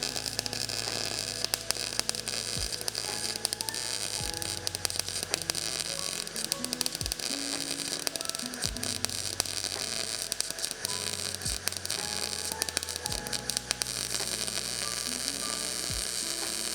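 Welding on the driver-side body panel of a Datsun, with some paint still in the metal: a steady crackling, sizzling arc buzz that runs continuously and close, broken by short pauses and hum.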